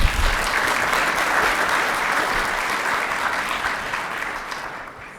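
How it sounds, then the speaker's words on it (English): Sustained applause from a conference audience as a former New Brunswick education minister is introduced, dense and steady for about five seconds, then thinning slightly toward the end. "you can clap for him."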